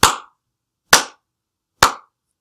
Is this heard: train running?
no